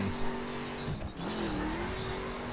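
A Ford F-150 SVT Raptor in the racing game The Crew brakes hard with engine drone, then a sharp tire squeal and engine note shift, fairly close and without talk.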